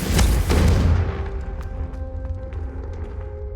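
Confringo blasting spell in the wizard game Hogwarts Legacy: a heavy, booming explosion hits loud and close at the start, with a second thump just after, then decays into a long rumbling tail with faint crackles and tones.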